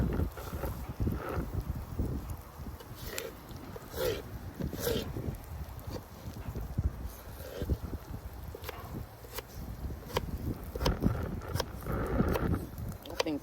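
Outdoor wind buffets a microphone at a vanlife camp, a steady low rumbling roar with gusty surges throughout, and voices faintly under it.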